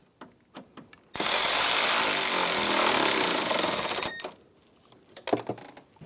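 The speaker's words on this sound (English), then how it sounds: "get the bolts started, and snug those down." A power tool tightens radiator bolts on a 2009-2013 BMW 328i xDrive 3.0L inline-six, a loud continuous whirring burst of about three seconds, with clicks and light clanks of the tool and parts before and after.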